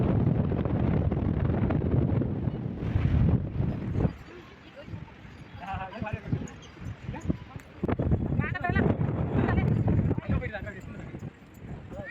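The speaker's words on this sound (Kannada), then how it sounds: "ಅಷ್ಟು ತುಂಬ ಗಾಳಿ ಬೀಸ್ತಾ ಇದೆ." Strong wind rumbles and buffets the microphone in heavy gusts on Mandaragiri hill near Tumakuru, easing briefly midway, while a person talks.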